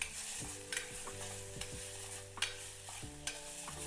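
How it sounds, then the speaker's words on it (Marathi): Cinnamon and curry leaves sizzling in oil in a pan, stirred with a spoon that scrapes and taps the pan several times over a steady frying hiss. "दालचिनी टाकून घेते थोडासा कढीपत्ता टाकते ते चांगलं हलवून घेते"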